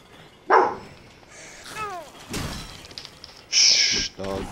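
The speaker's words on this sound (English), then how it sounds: "Shh, dog, be quiet." Dog barking in a home, a few short barks and yips spaced between thumps and other room noises, fairly close and loud.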